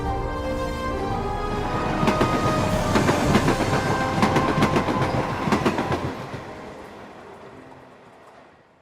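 A train rolling along rails, with rhythmic clacking of wheels over joints, building to a loud pass and then fading away into quiet.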